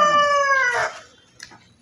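A chicken gives a single close, loud crowing call that slides downward in pitch, followed by a faint brief noise.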